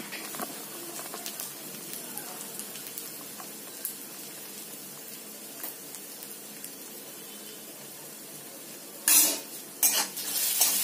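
Mixed vegetables with garlic and coconut being stirred in a pan over a faint, steady sizzle, with soft utensil scrapes, then a few sharper, louder clanks near the end, close by and without talking.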